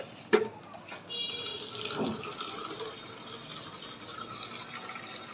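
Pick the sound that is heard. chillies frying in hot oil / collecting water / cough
collecting water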